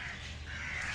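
Crows caw in a park and picnic spot, with one close, loud, harsh call against outdoor background noise.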